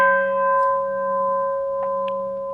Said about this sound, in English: To begin Tonglen, traditionally the gong rings like this.